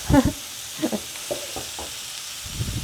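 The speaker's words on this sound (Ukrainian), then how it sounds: "Фарш у мене свинина і яловичина. І обсмажую його." Pork and beef mince fries in a pan on high heat, with a soft steady sizzle under several short scraping strokes of a spoon stirring the meat, close and moderately loud.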